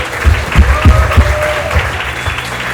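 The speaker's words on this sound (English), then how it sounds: "Can I ask everyone to just give another big round of applause?" Wedding guests give a big round of applause, a thick sustained clatter of many hands close by, with some louder thumps and faint voices mixed underneath.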